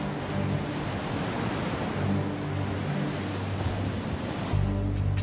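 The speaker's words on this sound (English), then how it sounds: "It's the ocean. Wait till you see the ocean." Ocean waves and wind in wild weather offshore form a constant, loud wash of surf and rushing air that buffets the microphone, with no voices.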